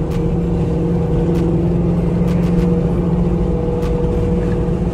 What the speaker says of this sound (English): Go back to 5th gear. You can hear it rev match just a little bit.